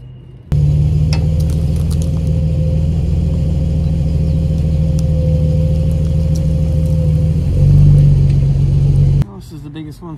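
A Jeep Wrangler TJ engine drones loud and steady close by while pulling down a tree, holding a constant pitch for about nine seconds with a slight surge in power near the end before cutting off.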